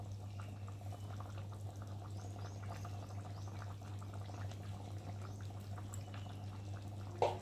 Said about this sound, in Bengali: একটু ঢাকা দিয়ে ফুটিয়ে নেবো।